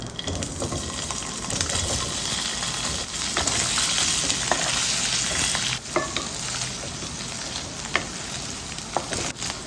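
Paneer cubes frying in oil in a kadai, a steady close sizzle with bubbling and occasional scraping as the pieces are stirred.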